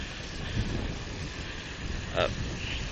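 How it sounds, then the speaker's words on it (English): Breezy wind blowing through a forested roadside area in northern Singapore on a hot, humid day, a steady broad rushing hiss with faint gust swells and a brief louder rustle near the end. "fairly low here and quite breezy in this forested area"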